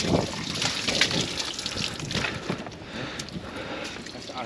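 Oily water gushes and splashes continuously from an apartment sewer pipe during high-pressure drain cleaning, a broad rushing flow with gurgling bursts, close and fairly loud.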